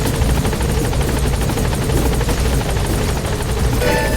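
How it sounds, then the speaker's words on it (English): The support helicopter in Metal Gear Solid V hovers close by, its rotor thumping in a loud steady chop that fills the whole stretch. "Support helicopter has arrived."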